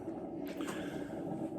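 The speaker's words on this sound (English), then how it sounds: "If you hear anything going, that's the coffee pot in the background." A coffee pot percolates in the background of a room, giving soft gurgling and squishy bubbling pops over a low steady hum, faint and somewhat distant.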